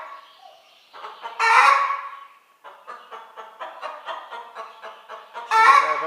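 A speckled hen sitting on guinea eggs clucks and squawks in loud bursts, with a rapid series of clucks between two louder, harsh cries, close by.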